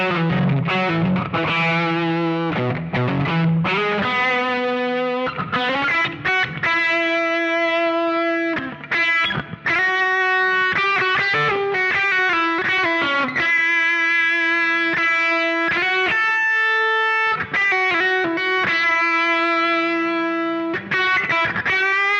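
An electric guitar solo played through a Fender Tone Master Pro. It is distorted and effects-laden, with sustained melodic notes and quick runs played continuously and loud for about twenty seconds, with no talking.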